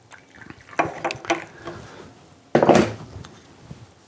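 Hot water is poured into a gaiwan for raw Pu-erh tea, making a close, splashing stream that comes in two bursts with clinks of porcelain between them.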